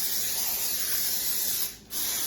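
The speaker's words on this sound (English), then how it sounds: "spray my casserole dish" Cooking spray hisses into a casserole dish in a steady, close, continuous burst lasting about two seconds, with a brief dip in pressure just before it finishes.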